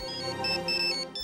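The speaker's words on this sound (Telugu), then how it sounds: "బుల్బుల్ కోసం ప్రవీణ్ ఫోన్ చేస్తున్నాడు." An incoming-call ringtone on a phone plays a quick melodic electronic tune, loud and close, with no talk over it.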